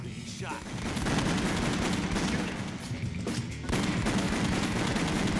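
Rapid gunfire from House of the Dead Overkill on the Wii rattles in quick bursts at close range, loud and continuous, with people talking faintly beneath.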